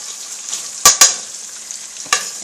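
Tomato paste sizzles in hot seasoned oil for Liberian-style attieke, a constant hissing fry punctuated by three sharp scrapes of stirring, two close together and one later, loud and close with no talk.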